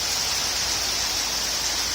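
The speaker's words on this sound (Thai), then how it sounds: "วันนี้เราเดินทางมาพร้อมกับสายฝนนะคะ ฝนฟ้าคะนองทีเดียวค่ะตกเยอะมาก" Heavy rain pours steadily through a thunderstorm in Phayakkhaphum Phisai district, Maha Sarakham province, Thailand, a dense, continuous hiss with no thunderclaps and no voices.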